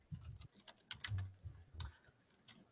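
Typing on a computer keyboard, irregular bursts of close key clicks and taps with short pauses between.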